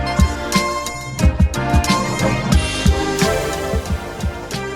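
Hip hop beat built on a chopped soul sample, with punchy kicks and snares driving a steady rhythm under dense, loud, layered sampled chords and vocal fragments, no talking over it.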